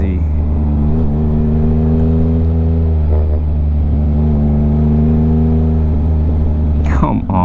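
A 2022 Yamaha XSR900 with a VCYCLENUT tune idles and revs close by in a loud, steady, deep engine drone, with a short burst of sound near the end.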